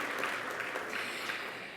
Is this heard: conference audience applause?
yes